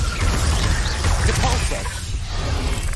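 A Glacius freezing spell is cast in Hogwarts Legacy, a dense icy crackle and whoosh layered over busy combat effects and a low rumbling score, loud and continuous throughout.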